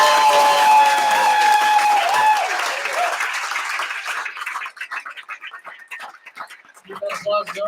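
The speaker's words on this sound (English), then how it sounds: "Keep that applause going for Christine." An audience at a poetry night gala applauds warmly after a reading. The clapping is full at first, then thins out and tapers to scattered claps with a few voices.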